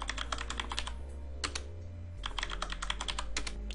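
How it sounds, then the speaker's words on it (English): Password typed on a computer keyboard during an Ubuntu server setup: close, crisp key clicks in quick bursts, with a brief pause between runs of keystrokes over a low background hum. "Now type in your MySQL root password"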